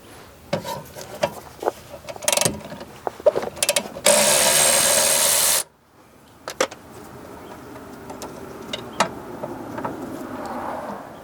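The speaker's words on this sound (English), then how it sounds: "I also like to remove the bolt that holds the brake hose onto this bracket here just to give a little bit more free play" A ratchet works the brake hose bracket bolt on the rear brake of a 2013-2017 Honda Accord, giving scattered clicks and a dense, steady burst of rapid ratcheting in the middle of the clip before it trails off to faint tool noises.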